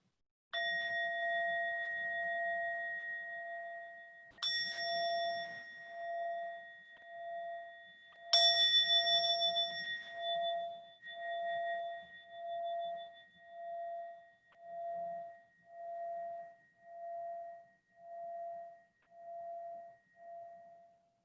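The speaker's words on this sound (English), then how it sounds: "We'll begin with a bell if you'd like to bring awareness to that sound until you can't hear it anymore" A meditation bell is struck three times, each clear ring swelling and then lingering in a long pulsing, wavering tone that slowly fades toward silence.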